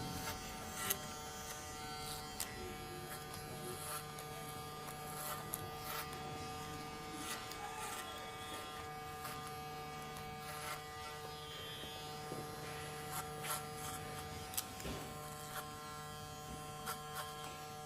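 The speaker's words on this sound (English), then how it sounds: "I just remove the bulk with a clipper over comb." Electric hair clipper cutting hair over a comb, a steady faint buzzing hum running continuously with small clicks and snips along the way.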